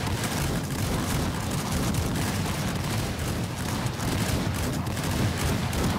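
Dense, continuous musket fire in a large 500 vs 500 Revolutionary War line battle in the game Rise of Liberty, a steady roar of overlapping shots from many soldiers, loud and unbroken throughout.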